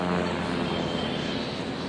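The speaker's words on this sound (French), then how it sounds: "on fait descendre l'avion et remonter l'avion et redescendre l'avion" Steady aircraft engine drone from a plane diving in a film scene, a loud continuous roar with no talking over it.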